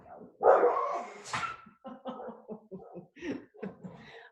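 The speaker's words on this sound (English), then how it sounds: "I don't know what she's barking at." A pet dog barks repeatedly outdoors, starting with a loud, drawn-out bark followed by a run of shorter, evenly spaced barks at moderate distance.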